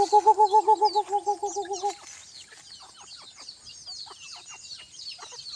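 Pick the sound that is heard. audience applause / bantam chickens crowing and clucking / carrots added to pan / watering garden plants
bantam chickens crowing and clucking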